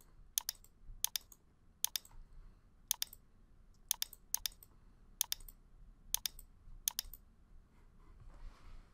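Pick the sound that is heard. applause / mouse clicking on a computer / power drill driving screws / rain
mouse clicking on a computer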